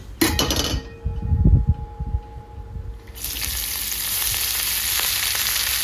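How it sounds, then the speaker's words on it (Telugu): Chopped spinach goes into hot oil in a pan. A few clinks and stirring sounds come first, then a steady, bright sizzle of frying takes over and continues to the end. "బాగా వేగించుకోవాలి"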